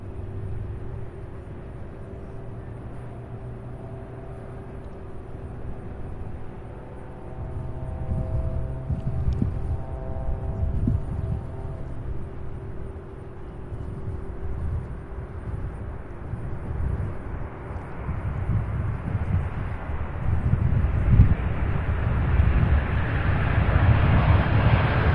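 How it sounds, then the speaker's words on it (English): A UPS cargo plane from San Juan, Puerto Rico touches down at Louisville International Airport. Heard from a distance, a steady jet roar grows louder and more rushing over about twenty-five seconds, with wind buffeting the microphone. "Wow, what a beautiful landing."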